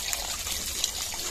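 Water trickling and splashing steadily as boiled, softened food is rinsed to drain off its bitter water in a village kitchen, a continuous close wash with no talk.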